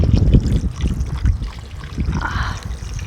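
Water is poured into a chicken curry cooking over a wood fire, a close, steady splashing trickle that runs for about three seconds with no talking.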